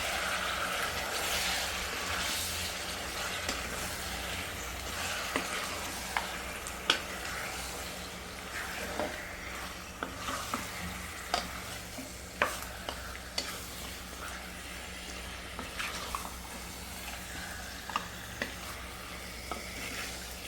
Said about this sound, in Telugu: చికెన్ పీసెస్ అయితే బాగా వేగిపోయాయి.